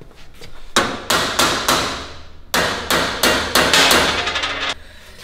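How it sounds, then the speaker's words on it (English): A hammer strikes a trailer wheel bearing hub with about a dozen sharp metallic blows in two bursts, close and loud, each impact ringing briefly before the next. "Where's the hammer? Where's the persuasion tool?"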